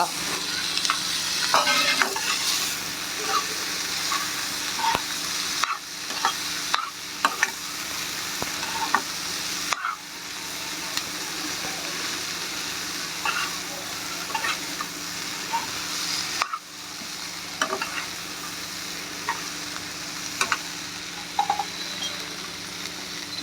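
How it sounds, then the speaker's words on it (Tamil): Boiled chickpea sundal sizzling as it is tempered and stirred in a hot pan, with continuous frying hiss, scraping strokes and occasional clinks, fairly quiet with no voices. "வேக வச்சு சுண்டலை போட்டு தாளிச்சிக்கலாம்"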